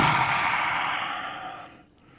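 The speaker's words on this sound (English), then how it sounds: "Let's take our deep breath" One deep, audible breath with a long, airy exhale that gradually fades into quiet.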